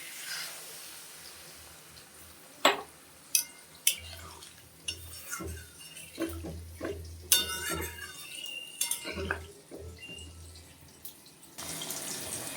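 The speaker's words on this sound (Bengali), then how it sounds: "এখন আমি জল দিয়ে দেবো" Water goes into a pot of fish curry masala for boal fish with tomato and potato, heard as a few sharp clanks of pot and utensil followed by pouring and splashing water, close and fairly loud.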